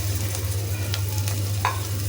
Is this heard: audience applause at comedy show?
no